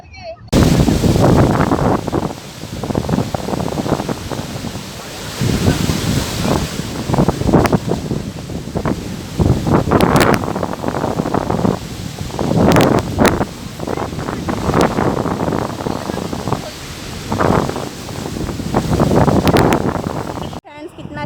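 Sea waves surge and crash repeatedly onto the shore at Gadani Beach in Balochistan, mixed with steady wind buffeting the microphone, loud and continuous, with people talking over the roar.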